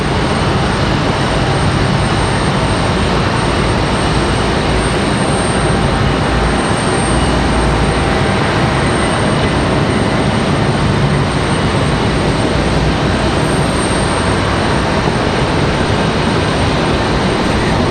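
American Airlines Airbus A319 arriving from Miami at Raleigh-Durham airport: a loud, sustained broadband jet roar that stays constant and close for the whole stretch, with no voices.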